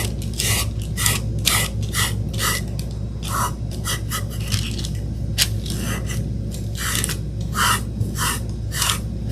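Cheesecloth rubs fresh wood stain back across a small wooden birdhouse, making a steady run of soft, close rasping strokes that repeat in quick bursts over a constant low background hum, with no talking.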